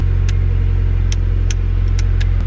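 A small car engine idling smoothly and quietly, a steady close low hum with even rhythm, broken by a few faint ticking clicks.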